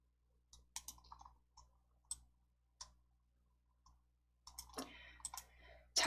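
Computer mouse clicks while working in PowerPoint, a series of sharp, close, isolated clicks spaced irregularly, then a denser cluster of clicks and rustling handling near the end, with no talking.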